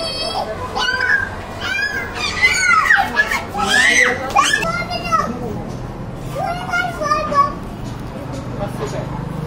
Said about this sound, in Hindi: दोनों के ऊपर जंप कर देगी बिल्ली कैट